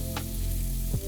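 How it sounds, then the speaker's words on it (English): Burgers sizzling in oil in a frying pan, a close, steady sizzle with a brief scraping press near the end and no talk. "Place the burgers in the pan, press them down with a flexible spatula"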